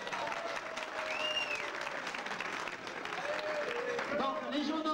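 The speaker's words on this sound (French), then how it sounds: "Applaudissez les bleus." Crowd applause at a school friendship festival game, cheering the blue team; steady clapping fills the room while children's voices and a whistle-like squeal rise over it, with talk creeping in near the end.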